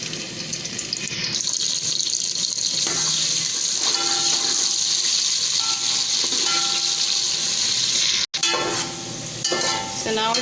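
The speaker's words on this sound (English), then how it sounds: "Now our oil is hot. Firstly we will fry the onions." Onions fry in hot oil for loci chana daal, a constant loud close hiss with faint stirring clatter running throughout, with no talking.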